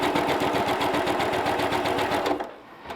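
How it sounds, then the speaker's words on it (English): A sewing machine fitted with a quarter-inch foot stitches a quilt seam in a fast, even run of rapid needle beats, close and clear, then stops abruptly near the end. "I have my 1/4 inch foot, and we're just gonna go sew this one on"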